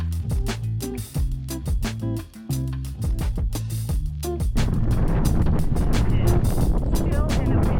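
Strong wind buffets the microphone on an outdoor hiking trail near Phoenix, loud rough rushing that comes in gusts and then holds steady, with a voice speaking over the early part.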